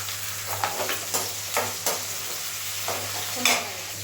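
Tomatoes fry in a pan with a constant close sizzle, broken by several sharp scrapes of a spoon stirring at irregular intervals.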